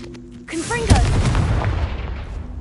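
Fiery Confringo blasting spell explosion in the Hogwarts Legacy video game, a sharp boom with a long rumbling tail, set amid game sound effects while a voice talks at the start.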